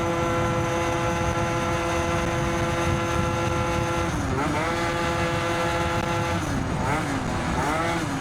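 Tuned Stage6 Yamaha BWS 70 scooter engine held at full throttle, a loud, steady high-pitched two-stroke drone with rising and falling pitch sweeps in the second half, traffic wind noise beneath.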